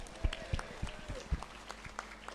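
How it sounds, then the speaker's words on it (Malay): A few scattered hand claps ring out in a mosque hall as an audience applauds the Masjid Laguna committee, faint, sparse and unevenly spaced rather than a full ovation. "malam ni boleh tak kita bagi satu tepukan gemuruh kepada ahli jawatan kuasa Masjid Laguna, boleh tak boleh?"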